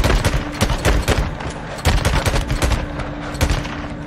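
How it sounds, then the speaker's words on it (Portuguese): Gunfire in the Days Gone video game: rapid bursts of shots crack repeatedly across the clip, loud and close, with a steady hum underneath and no talking. "Disparos identificados."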